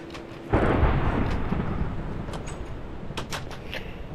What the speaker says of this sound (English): What I want to know was why there was an explosion.